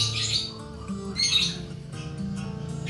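A white-rumped shama (murai batu) squawks harshly in short, raspy bursts while being force-fed wet pellet feed, up close against a faint background hum.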